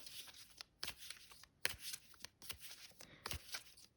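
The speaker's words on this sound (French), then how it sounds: "on va prendre donc quelques cartes. Donc on mélange bien" A deck of tarot cards is shuffled close by in a quiet room, with a run of soft riffling bursts, around seven, in an uneven rhythm.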